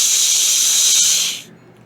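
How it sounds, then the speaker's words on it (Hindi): A pressure cooker on a stove lets off a loud, steady steam whistle that hisses continuously for over a second, then cuts off abruptly, leaving quiet room tone. "अरे किसका प्रेशर कुकर बज रहा है कब से?"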